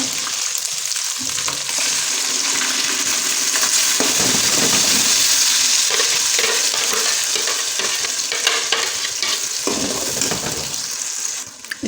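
Masala paste fries in hot oil while being stirred in a pan, a sustained loud sizzle broken by scraping spoon strokes and bursts of crackle, with brief quieter dips in between.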